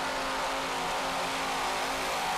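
Twin turbo offshore racing powerboat engines at full throttle during an offshore race, a continuous loud droning roar that stays level for a couple of seconds with no voices over it.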